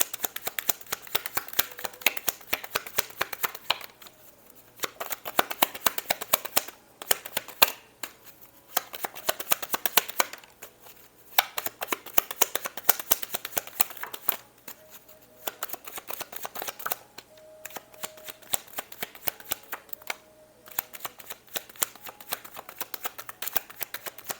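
Tarot cards are shuffled repeatedly in quick riffling bursts with short pauses between rounds, close and crisp, with no talking.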